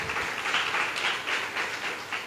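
A church congregation claps together in praise, a dense, steady burst of applause filling the room, loud and close for a couple of seconds with no talk over it.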